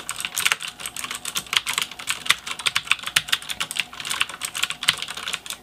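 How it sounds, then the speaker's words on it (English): Fast, continuous typing on a Ducky DK9008 G2 Pro mechanical keyboard with clicky Cherry MX Blue switches, sharp crisp keystrokes close up, with a few harder strikes standing out and no voices. "these are the sound of my blues"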